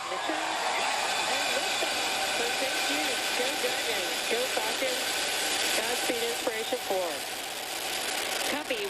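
A 200-foot SpaceX rocket lifts off on a civilian crewed mission, a steady broadband roar that runs loud and unbroken throughout while radio voices call out flight status over it.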